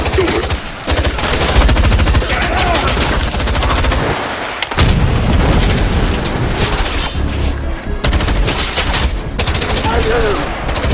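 A film shootout between robbers and police officers, with heavy, sustained bursts of close gunfire and booming shots that fill the scene almost without pause, along with brief shouted voices.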